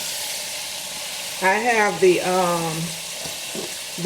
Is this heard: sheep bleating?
no